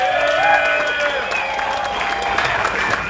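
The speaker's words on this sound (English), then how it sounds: "Let's get a round of applause for them, please." A crowd applauding steadily and fairly loudly, with some cheering mixed into the clapping throughout.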